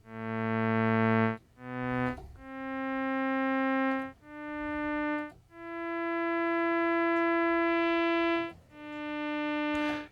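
A Moog Opus 3 synthesizer plays a sequence of sustained notes in a string voice, its resonant filter sweeping and reshaping the bright harmonics of each tone, with no voices over it.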